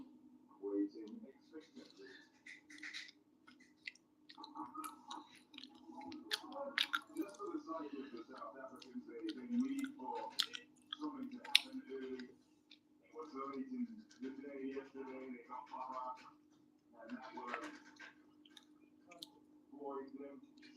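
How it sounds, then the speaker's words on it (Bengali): Someone eating jujube (kul) pickle, with soft wet chewing, squishing and finger-licking sounds mixed under someone talking, while faint devotional singing carries from nearby. "আমি এখন কুলের আচার খাচ্ছি দেখো কে কে খাবে কুলের আচার"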